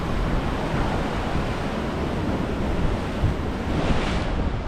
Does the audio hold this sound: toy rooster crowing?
no